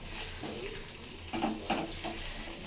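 Water splashes and trickles as cooked spinach is drained for a spicy Tamil-style keerai kuzhambu, a steady running flow with a few brighter spatters, close and moderately loud, no talking.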